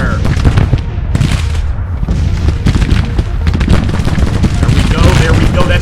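Infantry returning gunfire in Grand Tactician: The Civil War, dense crackling musket volleys mixed with heavy booms, loud and unbroken throughout, with some speech underneath.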